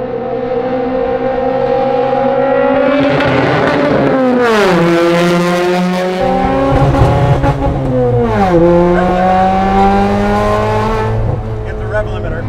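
A modified 1971 Lotus Europa with a custom engine conversion revs hard and repeatedly bounces off its rev limiter, producing loud, close engine wails that climb, stutter and fall back in two main bursts.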